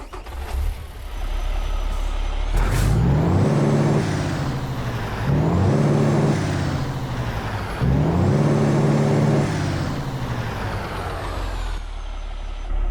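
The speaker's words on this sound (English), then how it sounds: "So why don't we go ahead and start up this truck and get rolling." A customized Peterbilt 389 semi truck in American Truck Simulator starts up with an air-brake hiss, then its engine rises and settles in three loud surging revs, the diesel idling steadily between and after them.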